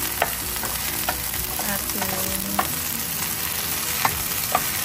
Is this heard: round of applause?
no